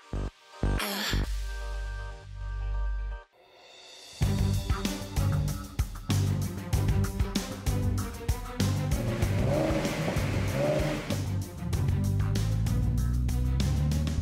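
A Ford Mustang with the smaller engine, a 2015-16 model era car, is driven hard: a loud, close engine roar builds and holds steadily after a brief pause, with short knocks and clatter at the start and no talking.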